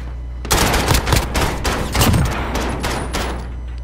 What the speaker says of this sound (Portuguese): Minha mira tá em cima dele. Eu atirei.